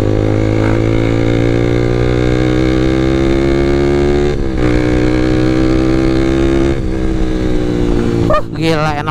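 A motorcycle engine pulls hard and steadily close by, its tone climbing through the gears with brief dips at shifts, loud and continuous throughout.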